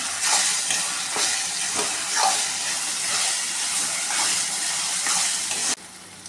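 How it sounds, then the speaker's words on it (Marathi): Ginger garlic paste sizzling and frying with browned onions in a hot pan, a steady close crackle broken by stirring scrapes, then cutting to a quieter hiss near the end. "कांदा आपला परतवून झालेला आहे त्यामध्ये मी आता अद्रक लसूण पेस्ट टाकतो एक चमचा व्यवस्थित परतून घ्यायचं"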